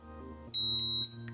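A coffee scale's timer gives a sharp, high electronic beep that holds for about half a second, close and clear over a quiet room.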